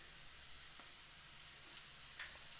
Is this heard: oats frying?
yes